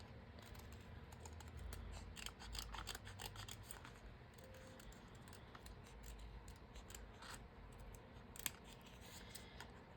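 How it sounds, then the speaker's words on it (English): Scissors fussy-cutting paper in a steady run of crisp snips and slicing strokes, close and fairly quiet, with no talking. "you'll just have to bear with me while I fussy cut"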